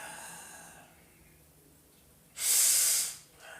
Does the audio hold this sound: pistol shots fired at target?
no